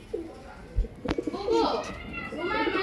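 Pigeons from a hobby loft give soft, low cooing calls in short bursts, close by, with children's voices and a few knocks in the background.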